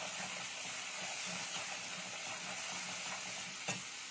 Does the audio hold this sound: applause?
no